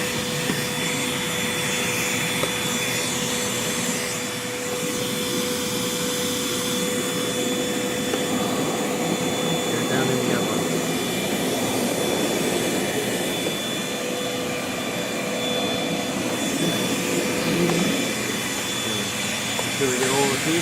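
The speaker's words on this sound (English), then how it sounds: "make sure you vacuum it very well" A shop vacuum cleaner sucks up leftover metal pieces during a modification on a 2017 DRZ SM motorcycle, droning steadily and loudly for the whole stretch, with a voice talking over it.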